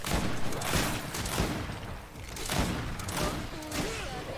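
Gunfire in the video game GreedFall sounds as dense, rapid bursts of shots and thuds that keep going throughout, loud and close, mixed with game combat noise.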